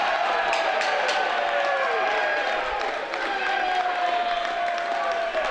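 A hockey arena crowd at a men's college playoff game cheers and applauds a penalty call, a loud sustained roar with whistles and scattered clapping throughout, while an announcer's voice sits faintly underneath.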